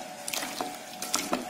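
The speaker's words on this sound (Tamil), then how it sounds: "கொஞ்சம் தண்ணி ஆட் பண்ணிக்கலாம்." Water poured into a pot of dal rasam, with a few short splashing, squishing bursts of liquid hitting the mash, fairly close and quiet, with no talk.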